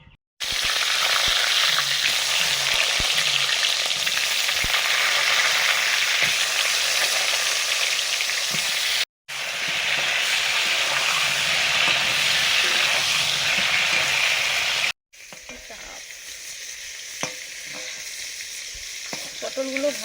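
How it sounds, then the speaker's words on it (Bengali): Pointed gourd (potol) frying in mustard oil with turmeric, a loud, dense, continuous sizzle close by, broken by two brief cuts, then a quieter crackle with stirring clicks toward the end. "পটলগুলো ভাজা হয়ে গেছে"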